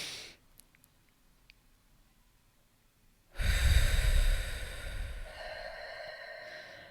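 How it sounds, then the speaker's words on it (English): A deep breath sounds during a guided meditation: a brief faint intake early on, a quiet held pause, then a long loud breathy exhale close to the microphone that slowly tails off. "taking a deep inhale, holding for 4 seconds before you exhale"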